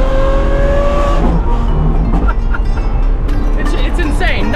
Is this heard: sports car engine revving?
yes